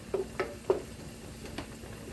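A handful of parsley is stirred into garlic-infused oil over medium-low heat for pasta aglio olio. Soft sizzling runs throughout, with a few light scrapes and clinks of the utensil against the pan.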